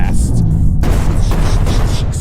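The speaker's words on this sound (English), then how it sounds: "Explosions everywhere." Heavy booming explosions in an indie video game fill the whole stretch with dense, continuous low rumble and bursts, loud and close, with no pause.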